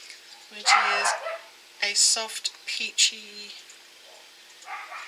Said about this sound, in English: The dog down the back started barking.